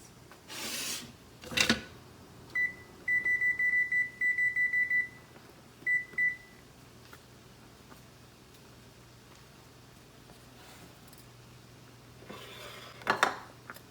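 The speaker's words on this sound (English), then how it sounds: "Gonna set a timer for 12 minutes for that rice." Kitchen timer being set for twelve minutes of cooking rice: a quick run of short, high electronic beeps, then a couple more, with faint clinks of dishes and cutlery before and after.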